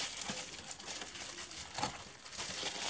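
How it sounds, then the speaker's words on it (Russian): Crisp crinkling and crackling of bubble wrap from a parcel, close up, with irregular rustles and small pops throughout. "Пупырку убираем."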